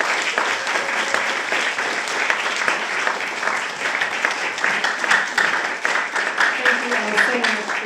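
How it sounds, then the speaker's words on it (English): A crowd at an evening Halloween salon gives a big round of applause to the performers. The clapping is dense and sustained for several seconds, with a voice faintly heard over it. "Let's give a big round of applause to everybody."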